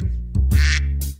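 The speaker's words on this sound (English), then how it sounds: "Ooh, a duck." A duck quacks in a short burst of a few nasal calls, close and fairly loud over a steady low background, in a children's sound-guessing game.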